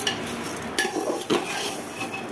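Arhar dal (pigeon pea lentils) frying in a pan while being stirred, giving a steady close sizzle with scraping and clinking of a utensil against the pan, no voices.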